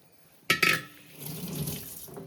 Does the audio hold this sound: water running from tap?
yes